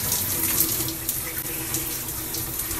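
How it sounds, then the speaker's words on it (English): Shower water runs in a loud, steady, close hiss with no pause and no voices. "We're all going for a shower right now."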